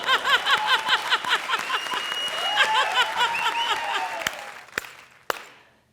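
An audience in a live comedy show studio bursts into loud, sustained applause and clapping, with scattered cheers and whistles layered over the dense clatter, then the clapping thins out to a few final sharp claps.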